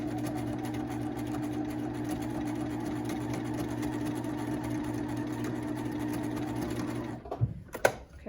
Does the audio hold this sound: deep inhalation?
no